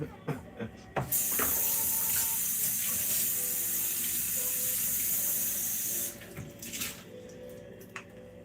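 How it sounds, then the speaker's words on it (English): Food with sticky bits of skin rinsed under a running kitchen tap, a loud steady hiss of water lasting several seconds, bracketed by clunks and handling noise before and after. "I'm gonna rinse these guys off because they still got some like sticky parts of skin to them."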